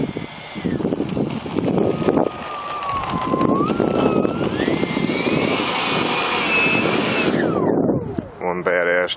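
A Bat Wing RC jet flies past loud and close, its turbine whine rising and falling steadily for several seconds before fading, with wind noise throughout.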